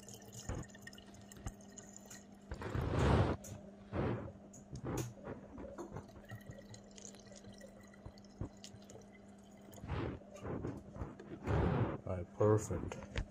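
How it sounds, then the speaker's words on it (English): Apple juice, 100% juice, poured into a container for homemade wine, heard as several separate bursts of glugging liquid spread across the stretch, fairly close, among quieter drips and background noise. "I'm going to go ahead and pour it in there."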